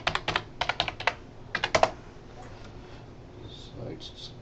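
Password keys tapped out on a computer keyboard during a software installation, arriving in two quick close bursts of crisp clicks separated by a short pause, followed by quiet room tone.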